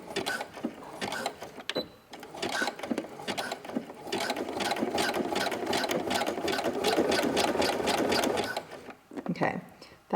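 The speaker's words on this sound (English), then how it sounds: "Now I'm actually going to sew a zigzag across this." A sewing machine stitches a zigzag across fabric while making a scrunchie, running in short bursts and then a longer sustained stretch of rapid mechanical chatter, with a person talking over the starts and stops.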